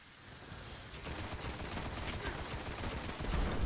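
Gunfire in the video game Destiny, a dense, continuous crackle of rapid shots that holds steady and swells slightly louder toward the end.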